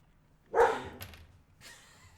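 A single dog bark rings out indoors, short and moderately loud, followed by a fainter trailing yip in otherwise quiet surroundings.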